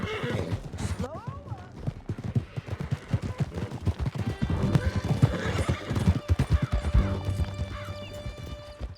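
Horses gallop in a video game, rapid close hoofbeats pounding throughout, with a neigh early on, distant gunfire and shouted voices mixed in.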